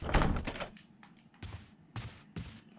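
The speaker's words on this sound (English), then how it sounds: "okay, let's try opening one of these doors." In the video game Resident Evil Remastered, a locked door is tried and gives a few dull wooden thunks and rattles, one louder knock and then three shorter ones, fairly quiet and with no talk over them.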